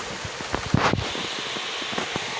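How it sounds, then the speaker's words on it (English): Steady rain falls outdoors, a dense hiss of drops with scattered louder taps on nearby surfaces and one brief swell, continuous and fairly close with no voices. "A început bine să ploie."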